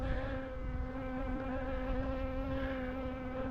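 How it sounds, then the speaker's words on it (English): A honey bee buzzes close around a beekeeper at a farm apiary during a hive inspection, a steady, loud drone with a clear pitch that holds without a break. "This bee has been hanging around me the whole time I've been here."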